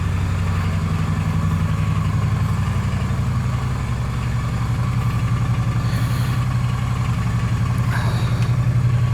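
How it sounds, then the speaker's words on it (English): A Triumph Bonneville motorcycle engine runs with a steady low throb that carries a rough, slightly uneven pulse, loud and close throughout. "I've got the Triumph out. It's not running the best, if I'm being honest. It seems to be spluttering a little bit."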